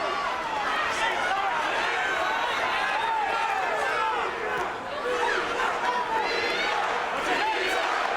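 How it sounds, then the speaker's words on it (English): Spectators at a boxing match cheer and shout to lift a fighter, a continuous roar of raised voices and yells filling the arena, with crowd chatter mixed throughout. "Crowd trying to elevate Peter right now."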